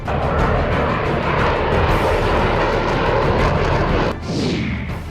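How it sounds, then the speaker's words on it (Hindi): A Dassault Mirage 2000 single-engine fourth-generation fighter jet roars past, a loud, dense, continuous engine rumble and rushing whine that fills the whole stretch, with a brief dip near the end before resuming. "अचूक असरदार अद्भुत मिराज, सिंगल इंजन चौथी पीढ़ी का मिराज 2000"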